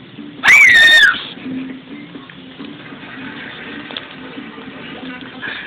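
A woman lets out a sudden, piercing scream at a spider, one loud shriek lasting under a second, followed by quieter room sounds and faint murmuring.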